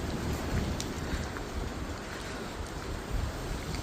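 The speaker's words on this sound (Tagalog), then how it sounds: "lakas ng hangin" Strong wind during a California wildfire buffets the microphone in gusty low rumbles, with a hissing rush underneath and no voices.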